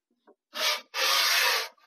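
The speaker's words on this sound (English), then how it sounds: "You're going to take your cutting knife and you're going to slide it over" A cutting knife slides over a part from a Delta MultiChoice R10000 universal shower valve, producing a faint tap and then two close, rasping scrapes. The second scrape is longer than the first, and nobody speaks.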